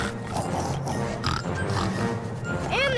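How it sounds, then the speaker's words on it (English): Cartoon pigs grunt and oink amid a busy animated scene in a Fisher-Price Little People children's episode, the snorts mixed under music and background chatter, with a rising whistle-like sound near the end. "here comes the three little pigs."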